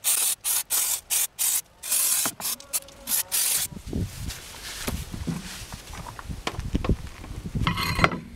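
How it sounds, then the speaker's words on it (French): Degreaser sprayed onto the rear brake disc of a Renault Scenic 3 in short, loud hissing bursts, about eight quick blasts, then quieter clinks and rubbing of handling the part nearby. "je vais remettre un petit coup de dégraissant sur l'ensemble du disque"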